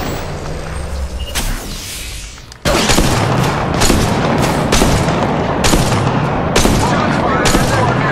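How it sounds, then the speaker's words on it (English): Apex Legends gunfire rings out in loud repeated bursts and booming shots, a rapid rhythmic volley after a quieter opening, close and dominant over the game's background sound. "Shots fired."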